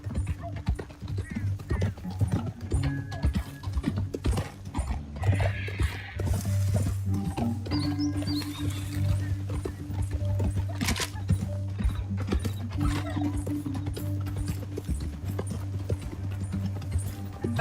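Steady clip-clopping of horse hooves in a video game runs throughout, with occasional snorts and rattling tack, under a low constant rumble and no speech.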